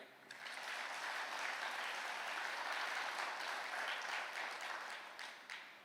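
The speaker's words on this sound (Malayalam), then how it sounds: "ഒന്ന് കൈയടിക്കുക" A congregation at a Catholic sermon breaks into sustained applause, a steady wash of many hands clapping for several seconds before tapering off, heard at a distance and fairly faint.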